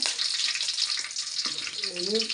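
Curry leaves crackle in hot oil with fennel seeds, a steady bright sizzle filling the clip, for a squid curry; a voice speaks briefly near the end.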